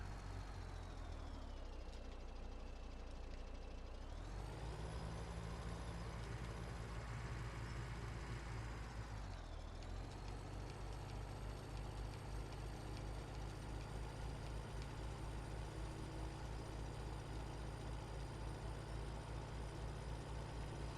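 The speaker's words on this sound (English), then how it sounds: "This Kenworth truck has a pretty decent amount of power." Kenworth truck in Farming Simulator 17, its engine droning steadily and loudly, with the pitch dropping and rising again as the revs shift twice, heard alone.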